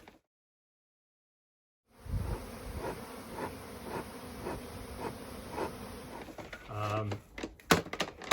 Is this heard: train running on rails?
no